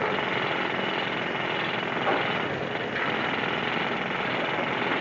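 A drill in a coal mine clatters without letup, a steady, dense, rattling roar at moderate level that holds evenly throughout.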